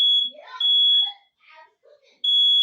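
Indoors, a smoke alarm sounds a loud, shrill continuous tone that cuts out and resumes, with a person speaking between the tones.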